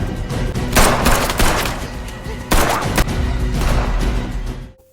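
Distant gunfire in a film chase, a man shooting at someone fleeing toward a forest: sharp bursts near 0.8, 2.5 and 3 seconds over a dense noisy action soundtrack that cuts out at the end.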